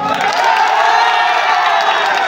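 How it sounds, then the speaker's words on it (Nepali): A college audience claps and shouts in a steady, dense roar of crowd noise, cheering and applause sustained throughout without a break. "ताली संगे चिल्लई दौन"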